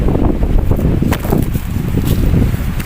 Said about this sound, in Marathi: आता वारा कसं सुटलं, अगदी सनसन वारं सुटलं.